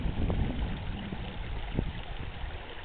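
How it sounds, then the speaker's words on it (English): Lobster boats run out on the water on a foggy day at Prospect, a steady low engine rumble from far off with soft water noise and faint rustle. "The lobster boats are out,"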